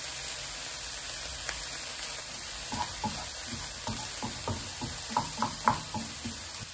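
Onions frying in a pan with salt added, a soft steady sizzle close up, broken by a run of rhythmic stirring knocks and scrapes that grow louder toward the end.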